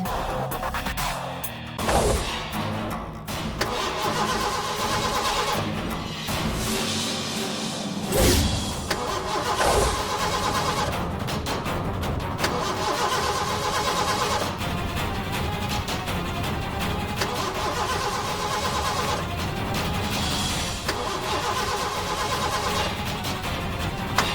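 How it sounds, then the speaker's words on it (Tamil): A car engine turns over and starts after some cranking, settling into a steady running rumble that continues loud and close for a long stretch, with no one talking. "தம்பி, வண்டி ஸ்டார்ட் ஆயிடுச்சுப்பா."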